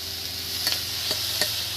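A spoon stirs masala dosa potato filling in a pan over a constant low sizzle, with three short scraping strokes spaced about half a second apart. Nobody speaks.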